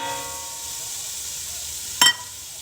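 Julienne-cut carrots sizzle in a hot pan for chicken and dumplings, a steady close hiss that runs without a break, broken once near the end by a brief sharp clatter.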